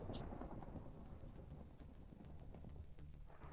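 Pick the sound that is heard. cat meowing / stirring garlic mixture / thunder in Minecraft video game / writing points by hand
thunder in Minecraft video game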